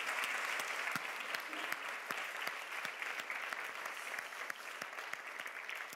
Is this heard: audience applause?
yes